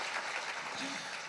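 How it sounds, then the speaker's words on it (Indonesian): A church congregation at a worship service claps briefly in applause for Jesus Christ, a soft, distant wash of hand claps lasting only a moment. "Sekali lagi beri tepuk tangan yuk buat Yesus Kristus"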